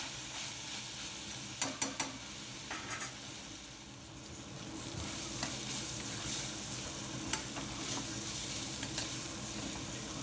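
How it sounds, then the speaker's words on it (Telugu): Spiny gourd pieces sizzle and fry in hot oil while a spoon stirs them, soft continuous crackle with a few sharp scraping clinks against the pan, fairly quiet throughout. "ఈ ఆకాకరకాయ ముక్కల్ని ఆయిల్లో బాగా ఫ్రై అవనిద్దాము"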